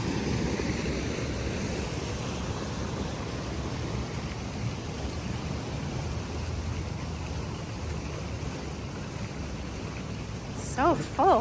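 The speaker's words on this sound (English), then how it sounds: "Crazy storm." Heavy rainstorm beside a swollen creek, a loud unbroken roar of downpour filling the whole clip, with a voice faintly rising near the end.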